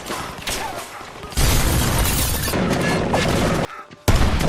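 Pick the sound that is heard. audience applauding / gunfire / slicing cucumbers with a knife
gunfire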